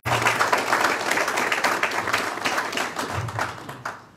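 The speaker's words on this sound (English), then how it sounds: "So can we just clap our hands for ourselves?" An audience at a Nigerian political gathering in Manchester claps in a steady, dense burst of applause that holds for several seconds, then thins and fades toward the end.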